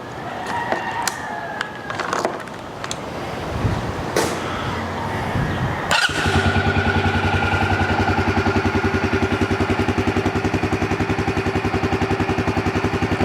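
A Yamaha Grizzly 300 ATV with a starting fault clatters through a few seconds of handling noises, then cranks and fires, settling into a loud, steady, close idle that runs on alone to the end.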